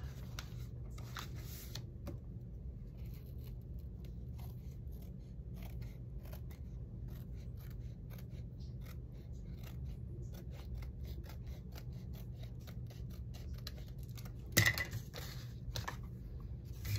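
Scissors trim paper for a lilac-themed envelope folio, with a steady series of quiet, close snips and one sharper clunk near the end; no one speaks.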